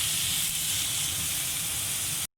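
Meat sears in a hot pan on the stovetop, a steady loud sizzle and hiss that runs unbroken for about two seconds before cutting off abruptly.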